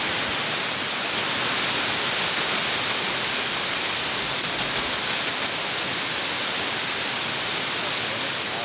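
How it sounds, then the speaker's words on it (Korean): Narada Falls at Mount Rainier, fed by glacial meltwater, roars as a steady, loud, broadband rush of falling water that fills the whole scene without a break. "여기가 나라다 폭포예요."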